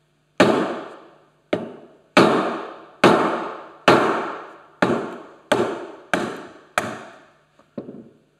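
A wooden mallet blank is struck over the leg of a bench vise to split it along a fissure, giving about ten sharp, loud, evenly spaced wooden knocks, each ringing briefly before the next blow.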